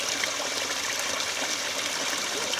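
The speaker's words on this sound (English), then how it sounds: "People are topping up their water canisters all about me now at the moment" Water runs steadily from an outdoor tap as walkers fill their water canisters on a Kent coastal path. A continuous, fairly loud splashing gush carries on unbroken with no talk over it.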